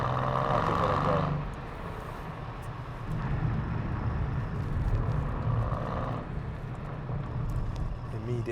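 Rumbling engine note from a 2015 Mercedes-Benz C63 AMG with a 4.0 engine as the rear-wheel-drive car pulls away on a cold, damp day, a steady low burble that swells under acceleration, with a voice talking over it.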